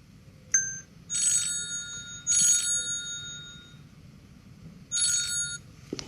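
A telephone rings in three bursts of bright trilling bells with pauses between, preceded by a short electronic tone, set against a faint background hum before a customer call is answered.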